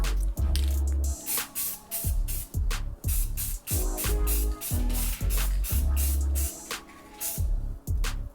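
A spray can lays primer onto the sides of a wooden display shelf in repeated short bursts, each hiss loud and close, with brief pauses and rattling between passes.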